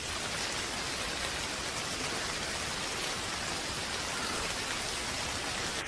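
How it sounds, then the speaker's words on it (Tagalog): Heavy rain pours steadily throughout, a dense, loud, continuous hiss of rainfall with no break and no voices. "Ang lakas ng ulan, bakit di ka sumilong?"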